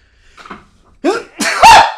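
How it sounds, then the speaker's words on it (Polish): A man sneezes loudly and close by, with a faint breath and small sounds building up before the sharp burst. "Się kichnęło mi się."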